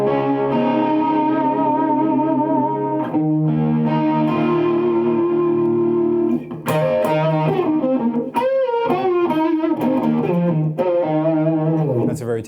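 Electric guitar played through chorus and overdrive pedals, ringing sustained chords and riffs with a shimmering, slightly distorted tone, loud and continuous throughout.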